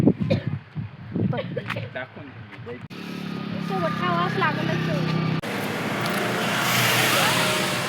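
Vehicles pass on a road with a rising engine drone and traffic noise that builds toward the end, while people talk nearby at the start.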